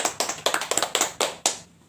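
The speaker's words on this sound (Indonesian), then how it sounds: "Ayo kita beri aplaus tepuk tangan." A classroom of students gives a brief round of hand clapping, a quick burst of sharp claps fading out within two seconds.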